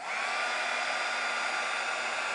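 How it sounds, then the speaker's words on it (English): A heat gun blows a steady, loud hiss as it melts embossing powder on a skeleton leaf, with no voices over it. "I'm going to again use my heat gun"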